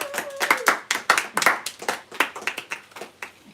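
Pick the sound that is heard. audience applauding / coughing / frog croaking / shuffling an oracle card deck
audience applauding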